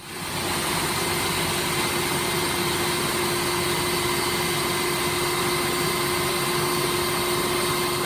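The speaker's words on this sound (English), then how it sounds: "We'll just put them into the food processor." Food processor blending toasted cashew nuts with coconut oil, a loud steady motor whine with a constant hum that starts abruptly and runs unbroken, close up and without voices.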